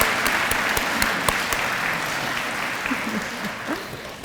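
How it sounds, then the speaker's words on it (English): A crowd applauds nursing students at a fall pinning ceremony, dense steady clapping with a few sharp louder claps standing out, faint voices murmuring underneath toward the end. "I want us to give a round of applause to all of these students."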